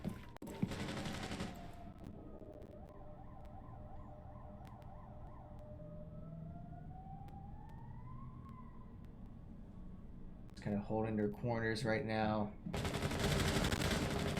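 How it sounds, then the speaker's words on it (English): Gunfire in a Rainbow Six collegiate esports match, sharp bursts of shots at the start and end over a steady game ambience, with a commentator talking partway through. "we do see some gunfire going on"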